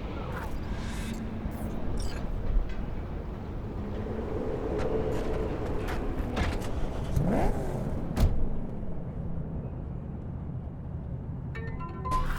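Car engine from Cyberpunk 2077 droning steadily under road and ambient noise, with a rising rev sweep near the middle and some scattered clunks; no talking.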